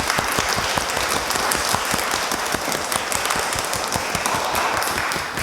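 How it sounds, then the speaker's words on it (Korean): Church congregation at a Sunday worship service applauding, steady dense clapping sustained evenly throughout, close and loud. "우리 다시 한번 박수 한번 할까요?"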